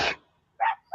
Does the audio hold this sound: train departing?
no